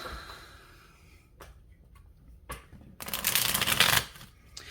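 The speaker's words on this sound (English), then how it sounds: "So one more shuffle." A deck of tarot cards is shuffled up close in several quick, crisp riffling bursts, the last one longest and loudest, with quiet pauses between.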